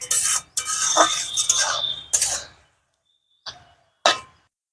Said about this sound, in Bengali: তো শাকের ঢাকনাটা খুলে দেখি শাকটা কতদূর হয়েছে